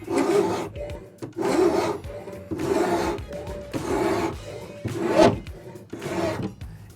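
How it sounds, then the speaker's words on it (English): A hardened file filing a bevel into an annealed old file being made into a bushcraft knife, held at roughly 18 to 19 degrees: six steady, evenly spaced rasping strokes, close and fairly loud, with no talk. "you can see how this hardened file is starting to take and put a bevel on that annealed file"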